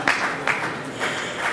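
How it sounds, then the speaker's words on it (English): Brief applause from an audience at an awards ceremony, a light patter of clapping with a few louder individual claps, fairly subdued and over in a second or two. "So one more round of applause."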